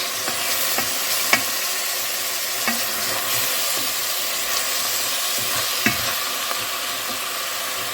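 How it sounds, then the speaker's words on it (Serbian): Onion, carrot, garlic and spinach stirred together in a frying pot for a soup, a steady close sizzle with intermittent scraping clicks of the spoon against the pot. "Promešat ću sve lepo. Sjediniti luk, šargarepu, beli luk i spanać."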